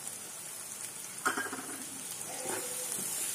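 Mixed vegetables cook in a pan for soya keema, a soft close sizzle with a couple of brief stirring scrapes and clinks, no talking.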